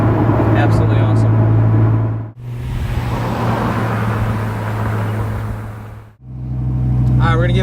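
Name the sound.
2002 Dodge Viper GTS supercharged driving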